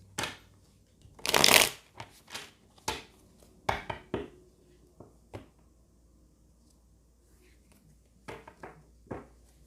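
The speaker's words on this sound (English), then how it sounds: "shuffle a little more and then we're going to get started." Tarot cards are shuffled in a quiet room: one loud, dense riffle burst, followed by a run of crisp, separate card slaps and taps that thin out and grow softer toward the end, with no voice.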